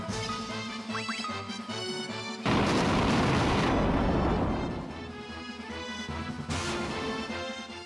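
A Fire Tome spell is cast in a Final Fantasy 2 battle. After looping game music comes a sudden loud, roaring burst that lasts about two seconds and then fades back into the music.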